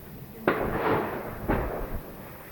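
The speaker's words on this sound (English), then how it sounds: "Fireworks, I can hear you, but I don't know where you are." Two sharp firework bangs on bonfire night in Lewes, each a sudden burst followed by a rumbling crackling tail, about a second apart, fairly distant, with faint voices in the background.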